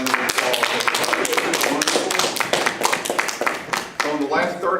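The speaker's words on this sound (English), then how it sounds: "Let's give Gwenda another big round of applause." An audience applauds storyteller Gwenda with a dense, sustained round of clapping from many hands, loud and continuous with slight swells and dips.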